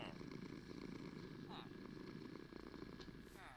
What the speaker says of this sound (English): I hear it purring.